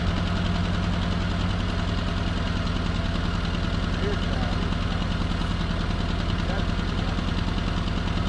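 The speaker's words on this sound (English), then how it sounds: "back to adjusting the idle" A vintage Jeep M38A1 engine idles steadily, with a low, even chugging rumble that runs unchanged throughout, close by and fairly loud.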